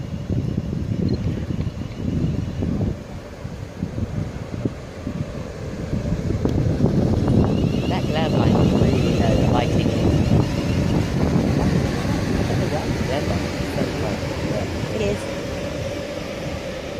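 Class 360 Heathrow Connect electric train departing Southall station on the Great Western Main Line, a steady loud rumble and whine that builds and holds as it pulls away, with wind buffeting and a voice talking over it.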